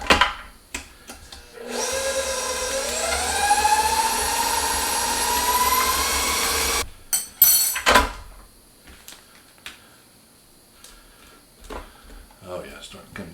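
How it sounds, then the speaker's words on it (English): An electric mixer whirs steadily for about five seconds, beating cream cheese and sugar into cheesecake batter, then stops, leaving bowl knocks and clatter. "We're gonna mix it and we're gonna taste it. So. All right, let's give it a mix."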